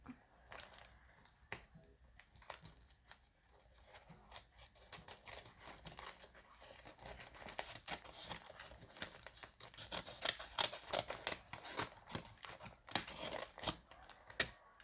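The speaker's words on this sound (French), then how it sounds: "je vais venir couper un tout petit bout ici pour être sûr de rien couper dedans" Scissors or a blade cutting open a parcel package, with repeated close snips, crinkles and rustling of packaging material scattered through, fairly quiet and with no speech.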